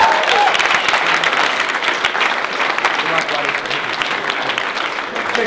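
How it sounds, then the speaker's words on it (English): Audience at a live show applauding loudly and steadily throughout, dense clapping from a sizeable crowd with a few faint voices underneath. "Give him a round of applause."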